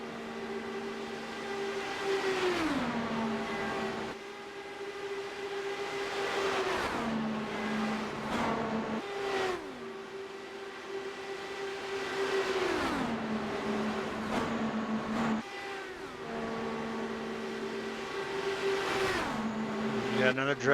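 Dallara DW12 IndyCar race cars lapping at Indianapolis, engines droning at high revs with repeated downshifts and pitch swoops as cars pass, under running race commentary.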